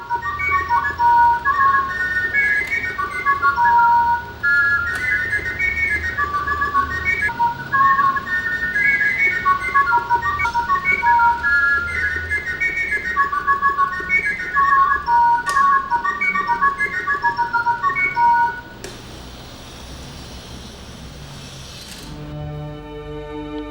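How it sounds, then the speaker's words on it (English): An automaton songbird in a Jaquet-Droz watch whistles a warbling, repeating melody through a whistle with sliding pistons, loud and continuous, then gives way to a quieter mechanical whir and a few soft ticks at the end. "Pierre Jaquet-Droz invented a whistle with sliding pistons, enabling one to modulate the song of the bird with a single flute"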